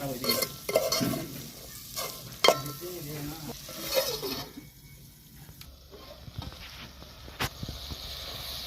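Cluster beans (gorichikkudu) cook in oil in a pan, a soft sizzle broken by intermittent stirring scrapes and clinks, then quieter simmering under a lid.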